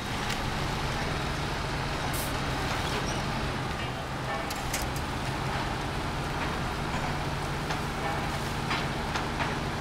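A truck in the video game SnowRunner winching its trailer up a hill, a steady loud low engine drone with grinding, rumbling mechanical strain and occasional sharp clanks throughout.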